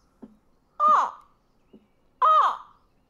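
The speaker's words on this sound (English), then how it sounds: "You begin to hear more crows, or ravens, all echoing out" Two loud, harsh crow caws spaced about a second and a half apart, each preceded by a short softer croak, with quiet between them.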